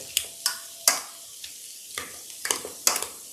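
Boiled potatoes being mashed by hand for Irish colcannon, a series of irregular soft squishing thuds and scrapes against the pot, close and fairly quiet with pauses between strokes.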